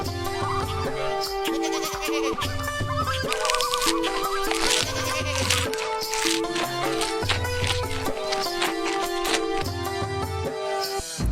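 Cartoon goats in an animated Hindi story bleat repeatedly, with wavering calls rising over steady background music that plays throughout.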